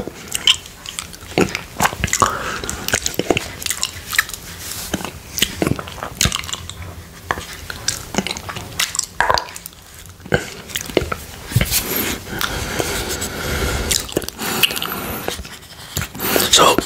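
Close, crisp bites and wet chewing of apple and applesauce, repeated crunches and squishes in an irregular rhythm, with soft speech in between.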